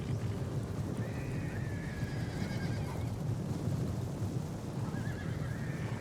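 Horses neigh and whinny several times over a low rumbling battle-like background, with rising and falling calls spread across the clip, in a medieval battle in Medieval Kingdoms: Total War.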